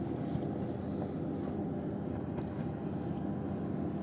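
Steady low rumble of water and wind around a small boat, a continuous washing swell with no voices.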